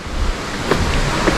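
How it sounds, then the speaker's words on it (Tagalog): Strong flowing water rushes in a mountain stream with clear pools, a loud, steady broadband roar close by, with slight wind buffeting and no voices. "Lakas ng tubig."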